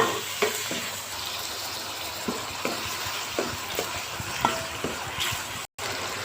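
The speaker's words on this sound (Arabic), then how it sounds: "هنا يا حبايبي بقى هبدأ انزل كده بالقوانص، تاخد تشويحة مع البصلايه" Chicken gizzards sauté with onion in a hot pan, giving a steady close sizzle with occasional soft stirring scrapes and light clinks, no voices.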